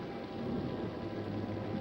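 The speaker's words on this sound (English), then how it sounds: "Oh, the storm's brewing." Rain and a low thunder rumble from a storm scene in a 1955 monster film, a steady, soft wash of falling rain with a distant roll of thunder, and no talking.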